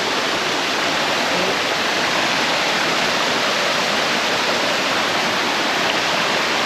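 A river in central Portugal rushes loudly and continuously, a dense, even roar of flowing water close by with no break and no talking.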